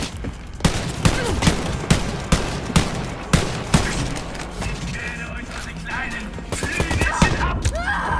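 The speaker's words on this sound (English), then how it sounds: "I'm shooting him." Rapid gunfire in Wolfenstein Youngblood as an enemy is shot: a long string of sharp, loud shots in quick succession. A voice talks over them.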